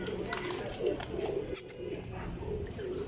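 Pigeons, Teddy breed, coo softly in low, rounded bursts, close by, with a rustle and a brief sharp sound partway through.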